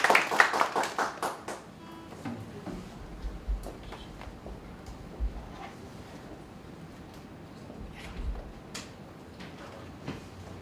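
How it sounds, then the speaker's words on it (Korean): Audience at a small Christian praise (CCM) concert clap to welcome a performer: a dense burst of hand claps in the opening seconds that quickly thins out into quiet room noise with a few scattered claps. "박수로 맞아주세요."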